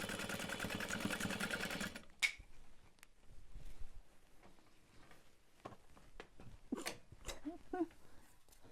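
A sewing machine basting seams on a backpack runs in a steady dense whir for about two seconds, then stops, leaving scattered clicks, handling taps and soft noises.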